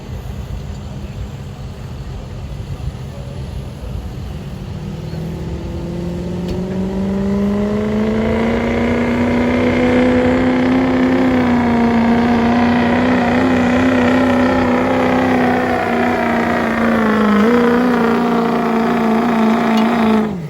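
2004 Ford F-350 with a 6.0 Powerstroke diesel pulling a sled at a workstock truck pull, engine rising from idle into a loud sustained rev that climbs and holds for about fifteen seconds, then drops briefly near the end.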